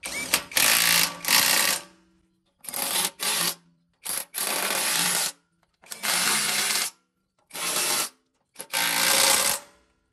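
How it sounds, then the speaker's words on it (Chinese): Screws being tightened on a homemade turbocharged toilet lid, likely with a power driver, sound as loud, close bursts of harsh whirring and grinding, about six in a row separated by brief silences. "然后把螺丝拧紧"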